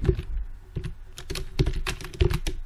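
Close, distinct keystrokes on a computer keyboard in an irregular typing rhythm, about a dozen taps over under three seconds, with no talking.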